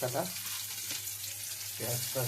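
Onion added to hot mustard oil with cumin, dried chilli and ginger for an egg and potato curry, giving a steady close sizzle and frying hiss that swells at the start and end.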